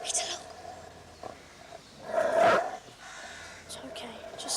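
A dog gives a loud, close bark near the middle of a tense scene in the drama Kaleidovision IV. Quieter rustling and faint vocal sounds come before and after the bark.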